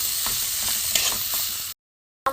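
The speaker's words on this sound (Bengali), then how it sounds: "এখানে গরম মশলা দিয়ে আমি একটুখানি ভালো করে কষিয়ে নেব।" Boiled potato fries with spices in a pan, a constant sizzle broken by soft scraping stirs, then a brief silence before a final clatter.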